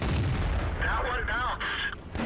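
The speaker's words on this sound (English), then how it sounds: "So I'm bouncing quite a few shots here" A tank shell ricochets off armor in the World of Tanks video game during a Black Prince heavy tank match, a loud booming impact followed by a ringing, warbling metallic whine over dense battle rumble.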